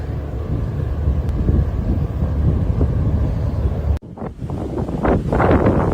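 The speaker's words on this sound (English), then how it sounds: "Wind's starting to pick up." Steady, loud wind from an approaching storm on the coast buffets the microphone with low rumble, briefly dropping out then returning gusty and rougher.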